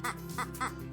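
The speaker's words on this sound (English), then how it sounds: "Duck." A duck gives three quick nasal quacks in an even rhythm, close and clear with no voices.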